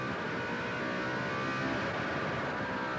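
Aluminium 400-cubic-inch Donovan V8 race car engine, basically a sprint car unit, screaming steadily on the rev limiter at a GT1 race at Manfield, loud and continuous with a dense buzzing roar throughout.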